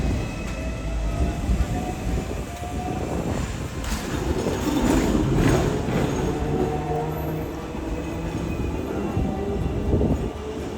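Hong Kong Island double-deck tram running along its street tracks, a steady rumbling roll with wheel noise and rattling that swells in the middle, heard nearby with city background.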